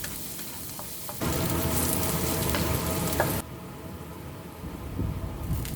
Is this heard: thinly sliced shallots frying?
yes